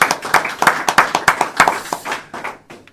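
A book-launch audience at a bookshop breaks into brisk, steady applause, a dense run of nearby hand claps that thins out and fades over a few seconds.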